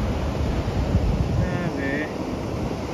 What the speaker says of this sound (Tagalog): Pero pag nandito ka na sa baba, malalaki pala yung alon.